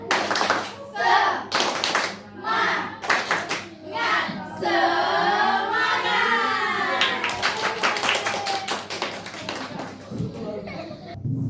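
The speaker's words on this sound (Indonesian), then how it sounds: "untuk semangat belajarnya kita tepuk semangat dulu ya" A class of students performs a 'tepuk semangat' spirit clap in an Indonesian classroom, crisp rhythmic bursts of clapping in patterned groups, near and loud, with children's voices and chanting woven through the claps.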